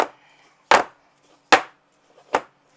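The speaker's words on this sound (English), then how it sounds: "I want to kind of shake it, drop it down a few times, get the air pockets out of it." Three sharp, loud thumps at an even pace as a cake pan filled with dark fudge cake mix batter is dropped onto a kitchen counter to knock out air pockets, with quiet pauses between impacts.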